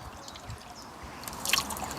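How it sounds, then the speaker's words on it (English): Water trickles and drips steadily for a couple of seconds as it drains from a tipped hot tub spa vacuum, close by and fairly quiet, with a slightly louder splash of dripping near the end. "dispel any water that's in it,"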